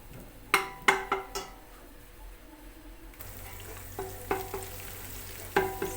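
Meatballs and onions sautéing with tomato paste in a pan, heard as a low sizzle broken by several sharp metallic clinks and scrapes of a spoon stirring.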